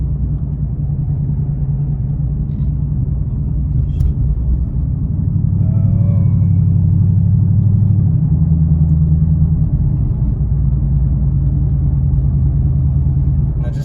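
A base model Ford Mustang GT with a Wind Booster throttle module cruising at light throttle, a low steady engine rumble heard from inside the cabin with a slight rise midway.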